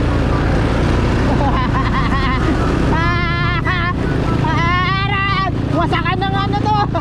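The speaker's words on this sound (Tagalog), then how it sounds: "Parang ayaw umakyat ng motor ko." Motorcycle engine labouring uphill on a rough, broken road in Montemaria, Batangas, a steady loud drone with wind buffeting the microphone and someone talking over it.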